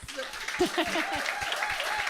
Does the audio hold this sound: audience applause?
yes